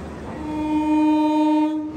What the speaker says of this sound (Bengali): এই ট্রেনটা মাত্র আসলো